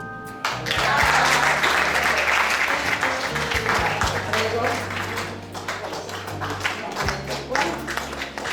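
A live audience applauds after a poem dedicated to children, with sustained clapping from many hands and a voice speaking over it.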